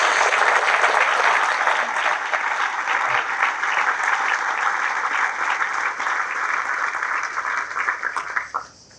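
Sustained applause from a crowd at a military change of command ceremony, dense and loud throughout before tapering off sharply at the very end.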